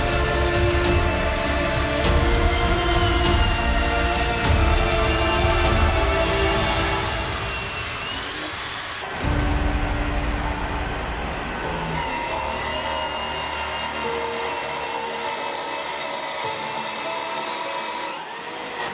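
A drill press bores into hardwood with a loud, sustained motor whine and grinding hum. Its pitch sags and the tone shifts about halfway, then the drilling steadies at a slightly lower level until the end, with no speech.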